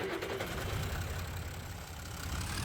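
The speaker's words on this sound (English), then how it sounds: "Oh yeah, that tractor sounds so good." A tractor engine idles in the Farming Simulator 25 video game, a steady low rumble with a faint knocking pulse, moderately quiet and alone.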